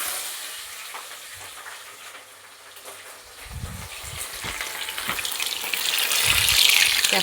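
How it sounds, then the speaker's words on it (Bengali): Cut capsicum goes into hot oil tempered with cumin for a potato and pointed gourd curry, giving a steady hiss that swells into louder sizzling toward the end, with no talking. "জিরে ফোড়ন দিয়ে এবার আমি দেব ক্যাপসিকাম, কেটে রেখেছি, ক্যাপসিকামগুলো দিয়ে দিলাম।"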